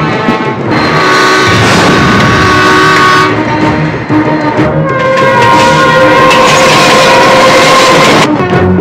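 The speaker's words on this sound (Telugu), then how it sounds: "ఇదే ట్రాక్ లో ఎదురుగా వేరే రైలు బండి వస్తుందిరా" Train rolling along a railway track in a Telugu action film scene, loud and continuous, with a sustained horn blaring over rumbling wheels and clatter.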